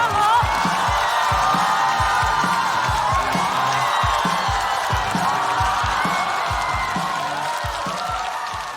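A studio audience at a Chinese comedy debate show breaks into sustained applause and cheering with whoops, a dense, steady wall of clapping that holds loud for the whole span and eases slightly at the end.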